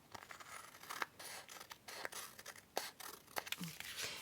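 Scissors snip around the edges of a handmade paper holiday postcard, a string of short, fairly quiet cuts spaced irregularly over a few seconds, with faint rustling between them.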